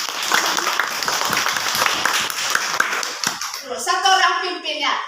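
Children in a classroom clap together in a brisk, loud burst of rhythmic hand claps, followed by kids' voices chanting and talking near the end.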